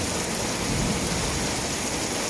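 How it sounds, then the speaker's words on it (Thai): Heavy rain pours steadily and loudly during a storm in Khon Kaen, Thailand, with strong wind and a low rumble of thunder rolling underneath. "ได้ยินเสียงฟ้าร้องนะท่านผู้ชมครับ"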